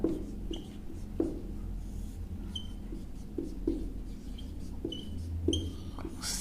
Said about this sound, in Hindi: ये परिभाषा मैं लिख दे रहा हूँ